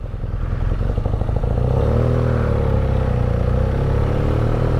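A 2019 BMW R nine T motorcycle rides through the Hollywood Hills, its engine giving a loud, steady, close rumble with a pulsing throb and wind noise throughout, with no talking.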